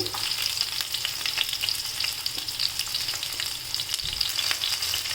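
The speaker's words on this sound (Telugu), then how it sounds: "స్టవ్ మీద పెనం పెట్టి ఆయిల్ వేసి వేడవగానే కట్ చేసుకున్న ఆనియన్ తెల్లగడ్డ అందులోకి వేద్దాం" Chopped onion and garlic sizzle steadily in hot oil in a pan on the stove, a dense continuous frying hiss with small crackles and a light scrape of stirring, with no one talking.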